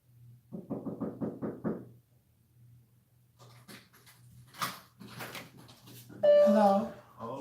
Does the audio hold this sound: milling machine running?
no